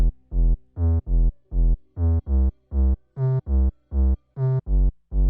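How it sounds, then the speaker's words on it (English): Deep, booming, low-tuned 808 bass notes pulse in a steady repeating rhythm for a moombahton remix, each short and punchy, heard alone and loud. "I use a way lower 808, so it sounds like this, the 808."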